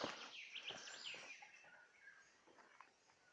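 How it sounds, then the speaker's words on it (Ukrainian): Birds singing in a quiet countryside dacha setting, a cluster of chirps and warbling phrases that thin out toward the end, moderately distant. "Чуєте, чуєте, як пташки співають?"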